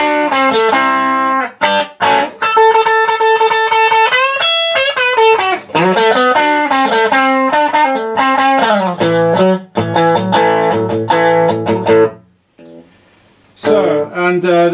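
Electric guitar played through a Marshall Studio 15 amplifier, loud and distorted, ringing sustained chords and riffs with brief pauses and a short quiet break near the end, heard alone without talk.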